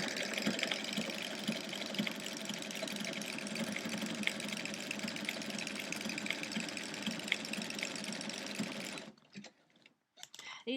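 A sewing machine stitches a lap quilt in a fast, steady mechanical chatter that runs close and continuous, then stops abruptly near the end, leaving a few faint knocks.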